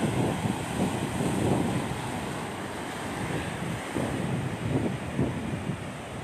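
Ocean waves wash onto the beach at Mohammedia's Mimosa campground in surging, rolling bursts under constant wind buffeting the microphone.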